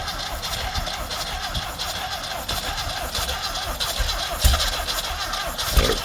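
A Volkswagen Baja Bug hot rod engine, previously stuck and starved of fuel by a weak pump, cranks and tries to fire, with a rough, uneven mechanical churn and a couple of louder catches near the end, heard close up.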